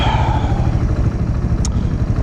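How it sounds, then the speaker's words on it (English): Kawasaki Z125 Pro motorcycle riding in a parking lot while shifting gears, a continuous mid-pitched engine drone with small rises and dips in revs throughout, close and fairly loud, with one brief sharp tick partway through. "Been practicing shifting gears 1, 2, 3."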